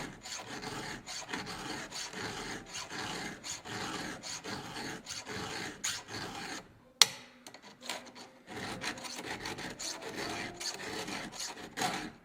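A round file rasps across a chainsaw chain's cutters in quick, even back-and-forth strokes, close and continuous, with one brief pause and a clink before the steady filing resumes.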